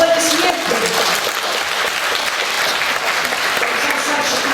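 Dense, continuous applause from an opera audience, loud and even across the short stretch with no pauses.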